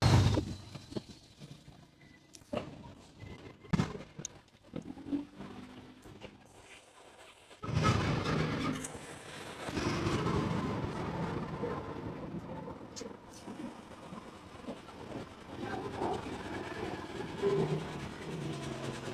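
An 80-ton pneumatic jack under test gives scattered clanks and air bursts, then a loud continuous rushing, rumbling hiss that holds steady for about ten seconds up close.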